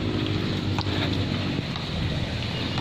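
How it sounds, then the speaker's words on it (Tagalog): An outdoor breeze at a jogging area rushes steadily against the microphone as a constant broad noise with a low rumble underneath, continuous and fairly loud. "Masarap yung simoy ng hangin."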